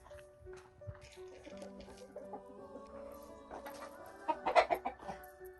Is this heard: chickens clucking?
yes